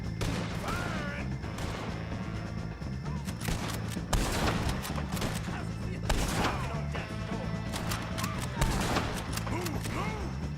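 Gunfire rages in Red Dead Redemption 2: dense, overlapping volleys of shots and booming impacts crackle without letup, loud and close, layered over a busy game soundscape.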